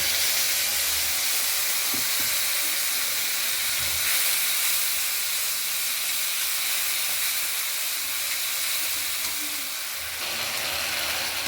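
Ground spice paste with salt and turmeric frying in a pan for a fish curry, producing a loud, continuous bright hiss and sizzle that stays even throughout, with no voices.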